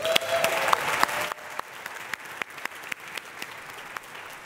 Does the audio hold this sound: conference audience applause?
yes